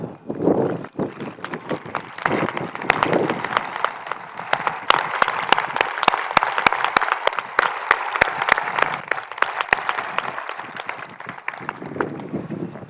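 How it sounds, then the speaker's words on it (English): A large outdoor commencement audience applauds steadily for the Class of 2021 student leaders, with dense clapping swelling in the middle and then thinning out. Faint voices come through underneath. "I would like to ask Haley and Evie to stand so we can all collectively thank them with our applause"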